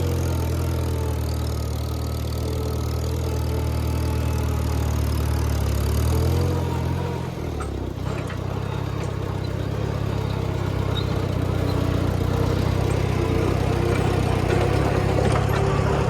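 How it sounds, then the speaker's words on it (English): An old Farmall 140 tractor engine chugs steadily at low pitch while chisel plowing, near and continuous, with a brief dip in the middle before the rumble resumes. "listening to these old tractors working"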